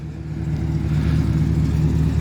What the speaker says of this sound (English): Let me know how the exhaust sounds, good or bad.